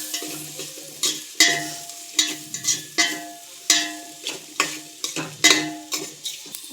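Egg fried rice with soy sauce being stirred in a pan: a steady run of scraping, clattering spatula strokes, close and fairly loud, over a light sizzle, with no voices.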